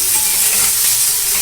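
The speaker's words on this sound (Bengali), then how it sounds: "দেখুন পেঁয়াজটা লালচে লালচে করে ভাজা হয়ে গেছে" Onion frying in mustard oil, a loud, close, continuous hiss of sizzling in the pan with a faint stirring texture and no voices.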